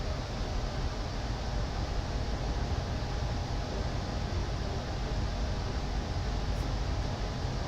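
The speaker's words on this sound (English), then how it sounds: "I'm gonna turn off my aircon now, because it's you can probably hear it in the background." An air conditioner runs steadily in a room, a constant broadband hiss and hum that stays even and moderately loud throughout, with no talking.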